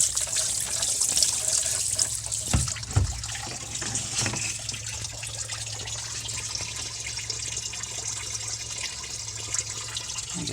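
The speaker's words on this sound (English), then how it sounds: "I'm gonna take a couple gallons of gas here and force down this intake here" Gasoline from a can pours down the intake of a 1978 Ford F150 engine in a continuous, close liquid rush with a gurgling trickle throughout, broken by a couple of brief knocks early on.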